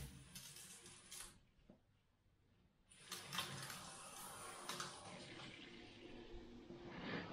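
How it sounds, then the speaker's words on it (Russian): Water running into the heating system of a Burnit Trend 11 kW pellet fireplace during its first filling: a faint, steady hiss and trickle of flowing water that briefly drops off, then resumes. "Сейчас, как говорится, водичка в систему"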